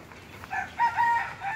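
A rooster crows once, close and clear, amid soft clucking from nearby chickens on a new poultry farm.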